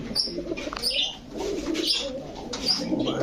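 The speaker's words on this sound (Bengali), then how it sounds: "এটা লাল প্লেন কবুতর" Pigeons coo steadily at a pigeon shop, with chirps from other birds and a brief flutter of wings, close and continuous.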